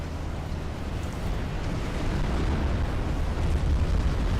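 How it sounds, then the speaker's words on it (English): Deep, continuous rumbling explosion booms in the video game Supreme Commander roll through the whole stretch, steady and heavy, growing slightly louder toward the end, with no voices. "I can hear big explosions."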